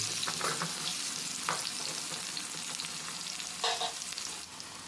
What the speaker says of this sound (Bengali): তেলটা ভালো করে গরম করে এর মধ্যে আলু দিয়ে দিচ্ছি